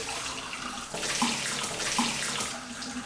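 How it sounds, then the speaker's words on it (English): Hot water with Purple Power cleaner runs steadily into the intake manifold of a Toyota Prius, a continuous rushing, splashing stream at close range with no voices. "I'm going to fill her up real good with purple power and hot water"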